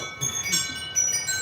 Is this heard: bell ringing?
yes